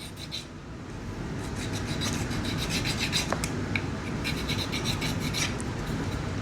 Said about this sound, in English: I think it's enough where I could probably just file a little bit away